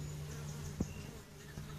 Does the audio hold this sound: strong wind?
no